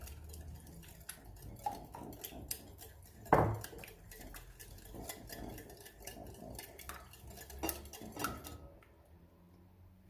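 A spoon clinks and scrapes against a bowl while warm melted butter is stirred for a macaron mixture, giving irregular close taps and knocks with one louder clatter partway through.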